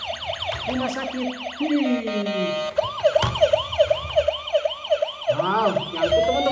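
Close and loud, a toy hospital ambulance sounds its electronic siren in rapid rising-and-falling warbles that repeat continuously, with no voices.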